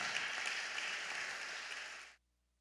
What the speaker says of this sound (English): Give yourselves a round of applause for choosing to come here tonight and inspire more love.